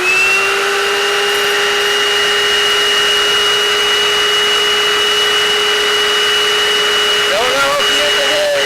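A small carpet cleaner with a water pickup vacuum runs loud and steady, soaking a fursuit with a constant high whine and hiss, ending with a few brief scrubbing or gurgling sounds.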